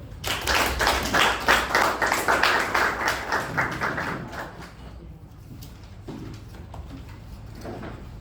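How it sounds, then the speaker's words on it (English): Hearty applause at a Toastmasters club meeting as the general evaluator is welcomed; brisk, close clapping runs for roughly four seconds, then thins out into a few scattered claps and room noise. "With a huge round of applause, please welcome our general evaluator, distinguished Toastmaster M.U. Bhat."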